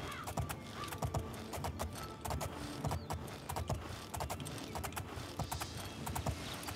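Horse hooves clip-clop in the video game Oblivion, a steady, quick run of hoofbeats heard alone at a moderate level, with faint mechanical jingling underneath.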